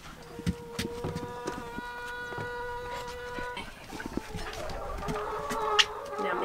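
Chickens clucking in short, scattered calls at close range inside a chicken house, with a steady background hum and some rustling and scratching around them.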